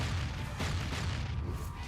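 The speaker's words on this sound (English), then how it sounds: "The secondary explosion confirms the payload." A secondary explosion on a tank after an FPV drone strike, heard as a continuous loud, rumbling roar of burning and blast noise lasting throughout, with dense low-end booming.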